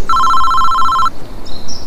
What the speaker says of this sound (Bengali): হঠাৎ ঘরে থাকা টেলিফোনটা বেজে ওঠে।